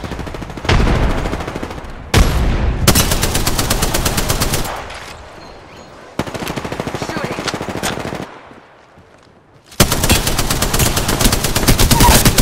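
Bursts of rapid automatic gunfire in the video game Apex Legends, loud close volleys separated by short quieter gaps, with a final sustained burst.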